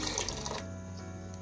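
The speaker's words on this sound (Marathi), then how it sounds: "कप पाणी टाकायचं." A brief close gush of water poured from a cup onto sugar in a pan to make syrup, a short splashing pour that stops after about half a second, followed by quiet.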